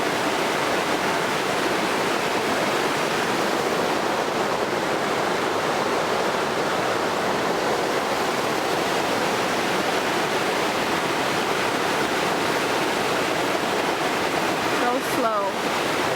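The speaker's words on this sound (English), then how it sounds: "There's a waterfall right there." Alaskan waterfall roaring steadily and loudly as broadband rushing water, continuous and unchanging throughout, with a brief faint sound near the end.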